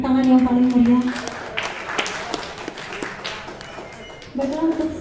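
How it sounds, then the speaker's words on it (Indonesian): Audience applause at a government ceremony in Jimbaran, Bali, a dense wash of many hands clapping mixed with crowd noise, with a voice speaking over it at the start and again near the end. "bisa kita berikan tepuk tangan yang paling meriah"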